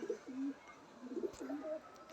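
Pigeons in a loft of Madrasi breeding pairs give soft, low rolling coos, several overlapping calls close by against a quiet background.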